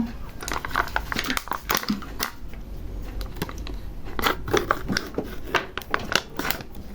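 Printer cartridge packaging is opened close up, with a run of sharp crinkling and tearing of plastic and cardboard in quick irregular bursts.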